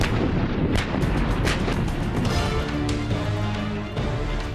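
Heavy gunfire at a national border, with loud, dense bursts of shots and booming reports rolling almost continuously with no pause.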